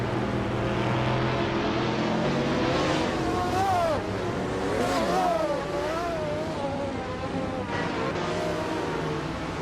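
A tight pack of race cars roars through the opening laps of a video game race. Engine whines rise and fall in pitch over a steady drone, and a commentator's voice runs underneath.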